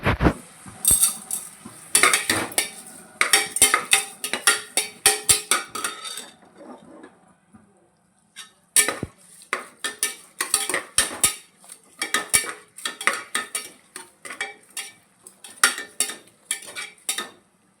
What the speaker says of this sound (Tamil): டொமேட்டோ இப்போ வதங்கிறதுக்காக கல் உப்பு சேர்த்து